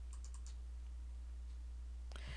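Quick, faint computer mouse clicks, including a double-click to open a folder in Excel 2007, tap several times early on and once more near the end over a steady low electrical hum.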